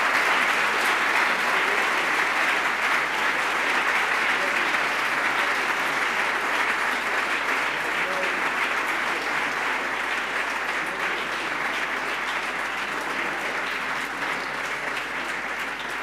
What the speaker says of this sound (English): give a big applause to our speakers for their excellent